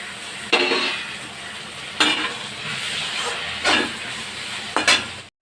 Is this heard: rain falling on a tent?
no